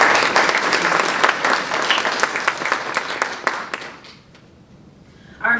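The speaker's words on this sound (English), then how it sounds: "One more round of applause for Savannah." Audience applause at a regional poetry recitation competition, loud and dense with many hands clapping, gradually thinning and fading to near silence before a brief burst returns at the end.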